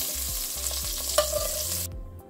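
Sausage slices browning in an even layer in a hot oiled pan, a steady close sizzle with rhythmic stirring scrapes that suddenly drops away near the end.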